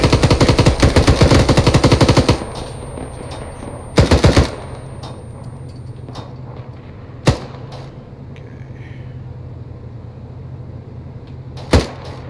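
Gunfire in the Arma 3 combat game: a rapid automatic burst rattles loudly for about two seconds, followed by a shorter burst and a few isolated sharp single shots spaced through a quiet background.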